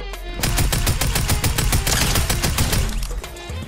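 A new tactical assault rifle firing in Fortnite, with a steady run of evenly spaced, loud, close shots in rapid rhythm lasting about three seconds and no voices.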